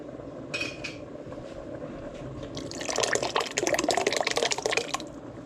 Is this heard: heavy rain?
no